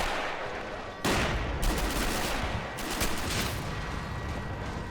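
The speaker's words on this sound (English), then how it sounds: "Oh, bullets landing everywhere." Dense rifle and machine-gun fire crackles in repeated bursts during a German amphibious beach assault on Crimea in a war game, with rounds striking all around, steady and moderately distant, no talk.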